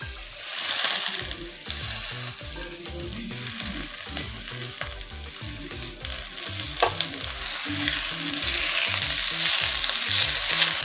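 Malabar spinach greens stir-fried with red lentils in a pan give a steady, loud sizzle with regular rhythmic scraping strokes of the spatula throughout, no talk.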